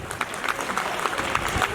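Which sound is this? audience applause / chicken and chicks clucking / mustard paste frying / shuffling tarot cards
audience applause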